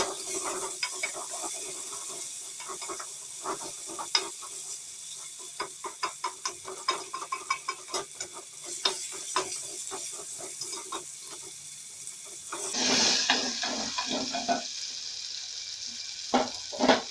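Food sizzles steadily in a hot pan for a pizza recipe while a utensil stirs it, making scattered scraping clicks and taps over a continuous frying hiss. No one speaks.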